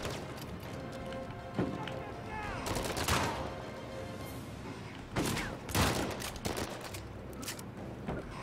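Video game gunfire in Uncharted 4: A Thief's End, scattered bursts of shots and rapid volleys amid game ambience, with someone talking between the firing.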